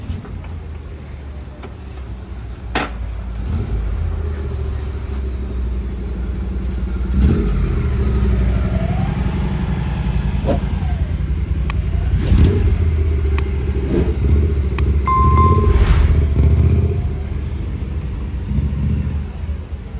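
A scooter being returned after a breakdown on a Mumbai to Leh trip is started up, its engine rumbling loudly and close throughout with repeated revs and clattering knocks, with faint voices now and then.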